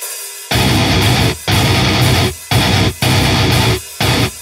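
Heavily distorted guitar playing a breakdown riff of loud chugging bursts separated by short gaps of silence, in an irregular stop-start rhythm, close and alone.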